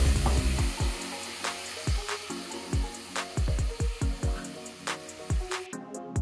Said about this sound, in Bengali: বেটে রাখা পেঁয়াজের পেস্টটা অ্যাড করতে হবে আর ভালো করে নেড়েচেড়ে পেঁয়াজটাকে ভাজতে হবে